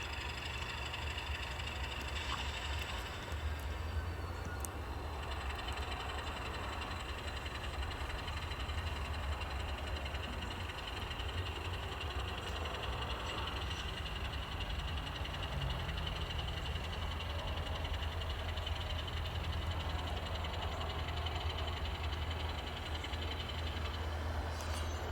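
A steady low diesel locomotive rumble drones on continuously for the full length at moderate distance, with a deep idling throb and no talk.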